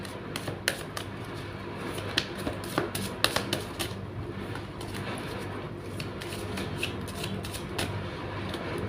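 A deck of tarot cards is shuffled by hand close up, a run of crisp riffling snaps and soft flutters in an uneven rhythm, with no voices.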